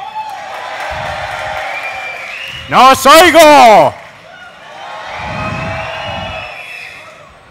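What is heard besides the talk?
crowd cheering and applauding at League of Legends final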